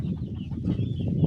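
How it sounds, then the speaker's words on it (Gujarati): A group of roosters clucks nearby in a rural yard, making short repeated low clucks in an uneven rhythm, close and fairly loud, with no talking. "જુઓ કેટલા બધા કુકડા છે, તમે જોઈ શકો છો મિત્રો"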